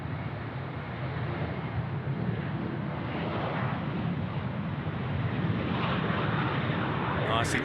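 An airliner taxis at Sydney Airport, a steady distant jet-engine roar that swells slightly toward the end, heard under someone talking.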